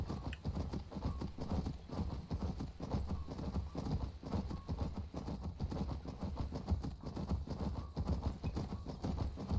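Horse hooves clip-clop in a steady trotting rhythm while riding through Skyrim, continuous and fairly close, with no talk over it.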